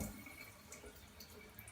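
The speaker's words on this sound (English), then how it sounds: "I'm just going to drop this down so it doesn't make too much noise as the water's running out." Water running out of the pipe of a water ionizer unit, a steady faint trickle with occasional drips, alone and without talk.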